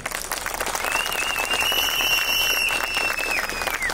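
Sustained applause from a crowd at an outdoor nature rally in Dersim, a dense steady clapping that fills the whole clip with a faint whistle rising above it.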